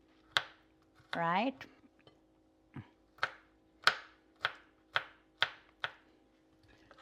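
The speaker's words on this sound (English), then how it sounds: "So just want to cut up some of the seasoning on it" Knife chopping seasoning for slow-cooked pork, about ten sharp, evenly spaced thuds on a cutting board, close and fairly loud, broken by a short rattle of dishes and a brief spoken word.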